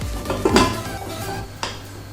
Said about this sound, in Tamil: குக்கர் வச்சுட்டேன் இப்போ மூடிடலாம்